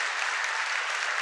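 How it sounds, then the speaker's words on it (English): An audience applauds after a talk on NSA surveillance, a dense, steady wash of clapping from many hands throughout. "Please give a warm round of applause."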